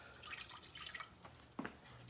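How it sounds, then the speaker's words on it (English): Water is poured from a cup into a pan for a simple sugar glaze, heard as soft, quiet splashing and trickling with a small splash near the end. "And we're putting a cup of water."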